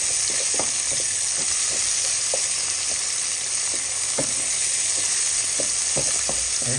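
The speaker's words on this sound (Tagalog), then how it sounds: "At yan na po ang ating sibuyas at ang ating luya. Together with our bawang. Ayan po. Gisa-gisa lang natin." Onion, ginger and garlic sauté in a pan for mung bean stew. A loud, continuous close sizzle carries scattered light taps and scrapes from stirring, with no talking.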